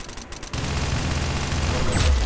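Gunfire in the video game Arsenal, a sudden heavy burst of shots that merges into a loud, dense rumbling roar held for about two seconds, with no talk.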